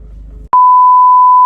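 A phone line tone while ringing Nigel on a building site: low background rumble, a short gap, then one loud, steady pure beep that holds unbroken to the end.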